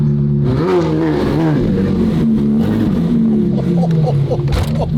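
A Ferrari F12 twin-turbo widebody car revs loudly on a city street among buildings, the engine note rising and falling in several sustained pulls with voices underneath.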